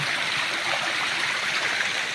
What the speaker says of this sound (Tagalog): Malakas na naman ang kanyang tubig.